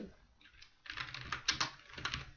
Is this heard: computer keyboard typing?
yes